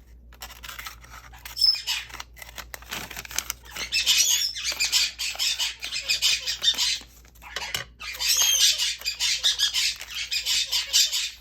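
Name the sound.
birds squawking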